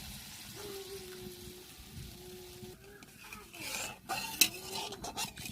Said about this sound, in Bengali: এবারে একটু গরম জল দিয়ে দেবো পরিমাণ মতো